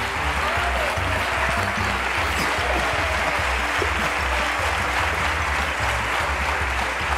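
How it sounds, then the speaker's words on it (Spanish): Warm studio audience applause on a Spanish TV comedy panel show, dense and continuous clapping at steady volume for several seconds. "Qué cálido aplauso."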